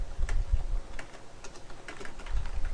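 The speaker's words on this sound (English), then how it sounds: "so you can type whatever you want here" Steady, close typing on a computer keyboard fills the moment: rapid, uneven key clicks with occasional heavier thumps, no voices.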